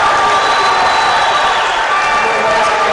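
Basketball crowd at a DeSmet Spartans home game against the CBC Cadets roars steadily, a dense wash of cheering and shouting that holds loud and continuous for the whole stretch.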